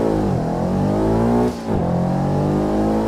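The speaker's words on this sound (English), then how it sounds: "Rev our gorgeous flat 4 boxer engine and let's go." A Subaru Impreza 22B's flat-four boxer engine revs hard in Assetto Corsa, a steady loud drone that rises, dips briefly at mid-point, then climbs again, heard alone and close.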